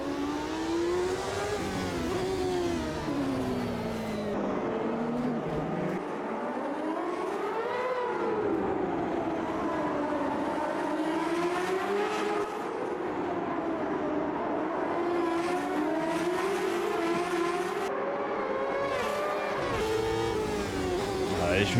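A race car in the sim game Automobilista 2, with a six-speed gearbox and topping 300 km/h, roars continuously, its engine pitch climbing and dropping through gear changes over the whole lap stretch.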